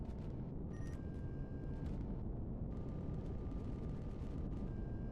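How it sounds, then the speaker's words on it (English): Rapid Gatling gun fire in Empyrion Galactic Survival, a dense, continuous rattling roar at moderate to low volume with steady rumble underneath and no voices. "Gatling gun."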